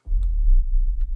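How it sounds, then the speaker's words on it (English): A single sub bump, a very low cinematic drum hit, swells in with deep booming weight and rumbles on for about a second, with faint clicks on top, heard alone. "I'm going to add a sub bump, a really low drum that sounds like this"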